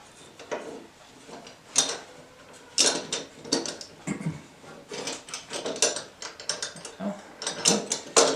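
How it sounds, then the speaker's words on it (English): A small ratcheting clamp is cinched down on a wooden joint, giving repeated close, crisp clicking bursts in an irregular rhythm with short pauses, alone and without talk. "I use this little clamp"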